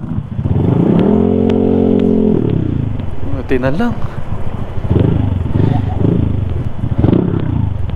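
Honda ADV160 scooter riding on a mountain road toward a viewpoint in Sagada, engine droning steadily under wind noise while riders talk with a passerby, with a brief swell of revving partway through.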